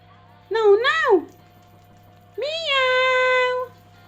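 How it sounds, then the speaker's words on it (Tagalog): A kitten meows twice at close range, first a short wavering cry, then after a pause a longer, drawn-out call, loud and clear over a faint steady hum. "Meow!"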